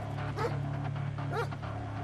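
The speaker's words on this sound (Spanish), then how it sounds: "¿Sabes por qué ladra?" A dog gives two short barks or yips about a second apart, set against a steady low hum and background noise of a tense indoor scene.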